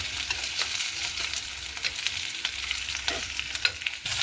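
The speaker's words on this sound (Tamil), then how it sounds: "கொஞ்சம் இந்த எண்ணெயில் வதங்கி அவியட்டும்" Potatoes sauté in oil in a pan while green beans are being cooked, giving a steady fizzing sizzle with occasional stirring scrapes and taps, close up and with no one speaking.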